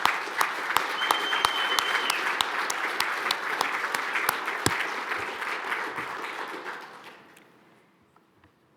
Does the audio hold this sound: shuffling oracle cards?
no